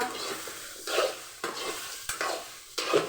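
Bitter gourd being sautéd and fried in a pan for a Tamil bitter gourd and field bean kara kuzhambu, with a steady sizzle broken by several louder bursts of stirring and scraping, close and without talk.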